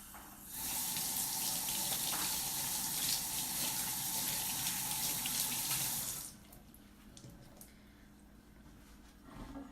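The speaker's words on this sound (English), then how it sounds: "Wash my hands one more time" Steady running tap water pours into a sink for hands being washed before cooking a Hmong pork stew, a loud, continuous close stream lasting about six seconds before cutting off to quiet room noise.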